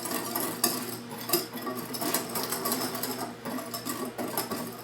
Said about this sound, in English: we're going to go ahead and mix that up good